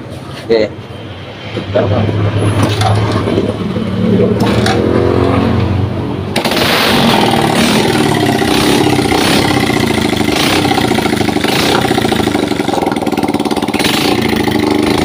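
An old motorcycle engine is started after its switch is tested and bypassed, then runs steadily at idle, loud and close, with a continuous rough drone; a few brief knocks come before it catches.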